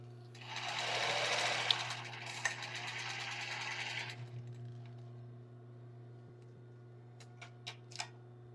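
A sewing machine backstitches through tulle and lace on a bra, running steadily for about three seconds at close range, then stopping. A low steady hum continues underneath, followed by a few light clicks near the end.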